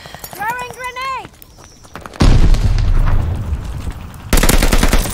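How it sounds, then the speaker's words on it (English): A grenade explosion in the Call of Duty: Vanguard multiplayer game lands as a sudden loud broadband blast, followed by a rumbling roar and a second heavy burst. A voice is heard shouting just before. "Throwing grenade!"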